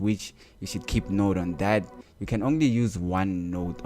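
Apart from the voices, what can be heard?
No everyday noise stands out behind the speech.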